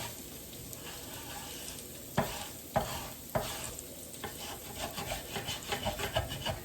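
Potatoes warming through in a pan, a soft sizzle under a run of rhythmic scraping stirring strokes that grow quicker toward the end, fairly quiet and close.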